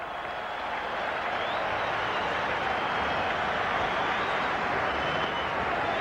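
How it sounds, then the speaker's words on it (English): Dense, steady crowd noise of cheering and applause at a 1997 Test cricket match in Johannesburg, a broad roar sustained throughout without letting up. "Oh, don't the crowd love that?"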